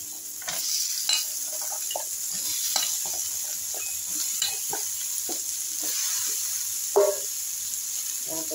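Potato pieces go into a pan of frying vegetables for a khoira fish and vegetable ghet, giving a steady close sizzle broken by scattered clinks and scrapes of a spatula against the pan.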